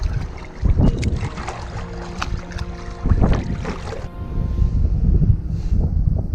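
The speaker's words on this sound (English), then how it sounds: "Now there is a bit of wind." Wind buffets the microphone while kayaking on open water, gusty blustery rumbles mixed with paddle splashes and water lapping against the hull.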